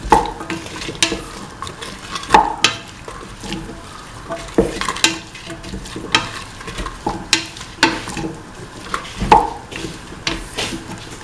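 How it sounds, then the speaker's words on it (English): Chopped snake gourd is stirred and sautéed in a pan, with a spatula scraping and tapping the metal in an irregular rhythm over a soft sizzle, close up and with no talk. "Thoroughly saute and mix."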